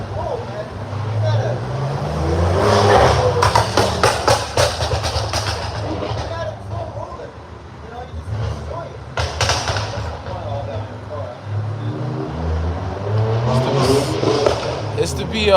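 A car's exhaust pops and crackles while the engine revs, with sharp bursts over a rumbling motor at a camp gathering, and people talk over the sound throughout.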